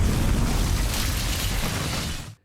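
A grenade blast in a cartel action film erupts as a loud, deep, rumbling boom that fills the moment and fades out abruptly after about two seconds.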